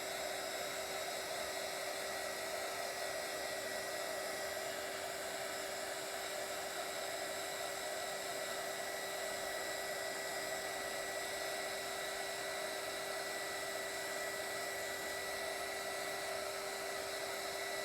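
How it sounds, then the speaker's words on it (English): Heat gun drying a polycrylic coating on cotton fabric: a steady, continuous blowing whir with a constant high whine, holding an even level throughout with no talking. "my heat gun to dry this"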